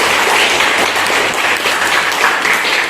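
A classroom of children claps in applause, a dense, loud patter of many hands that holds steady throughout.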